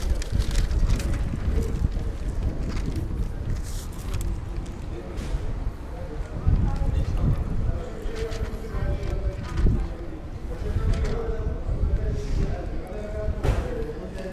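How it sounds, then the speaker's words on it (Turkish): Steady outdoor wind rumbles and buffets the microphone throughout, with faint voices and occasional birds in the background. "rüzgar var."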